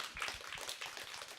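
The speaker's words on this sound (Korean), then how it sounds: "박수를 좀 보내주십시오." Audience applause at a Korean arts honorary teacher event, soft and steady clapping from a crowd for a brief moment.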